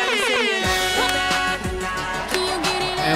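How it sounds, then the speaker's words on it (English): A loud air horn sound effect in the DJ Hero 2 video game blares, its sustained brassy tone sliding down in pitch, followed by further short blasts and blaring bursts. "Air horns make everything better."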